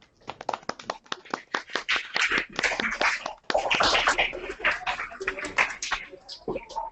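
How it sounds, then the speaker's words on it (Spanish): Applause for teachers at the end of a nursing-themed videoconference, rapid irregular clapping heard through a thin, band-limited connection, rising into a fuller burst midway and then tapering off. "Aplauso también a los maestros"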